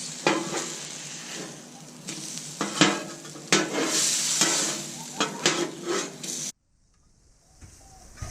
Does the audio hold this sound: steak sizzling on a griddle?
yes